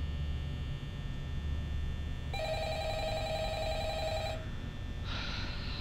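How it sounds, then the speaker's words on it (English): A telephone ringing in the horror video game Five Nights at Freddy's: an electronic ring sounds for about two seconds over a steady low hum, then a brighter tone follows; no voices. "So we've all heard the phone call."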